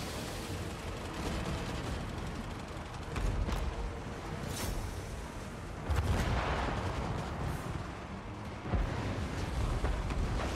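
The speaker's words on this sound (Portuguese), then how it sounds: "Deixa eu soltar uma bomba." Bombs exploding on a Total War: Warhammer II battlefield during a Dwarf campaign, heavy booming blasts landing at irregular intervals over a constant rumbling wash of artillery and battle noise.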